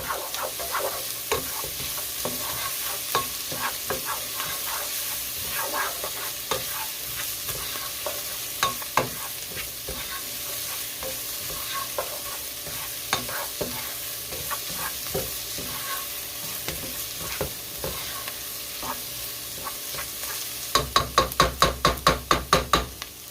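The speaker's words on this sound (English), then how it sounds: "I'm going to cook the garlic in there just for about 30 seconds." Garlic and vegetables frying in a pan, a continuous loud sizzle with frequent scraping and clattering stirs, ending in a quick run of rhythmic knocks against the pan.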